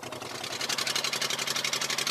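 An outboard engine drives a migrant boat at sea, a rapid, rhythmic chugging pulse that stays loud and close without pause.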